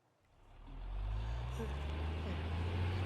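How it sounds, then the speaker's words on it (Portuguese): A truck on a road approaches and passes close by, its heavy low engine rumble swelling over the first second and then holding loud and steady, with no talk heard. "Outro caminhão."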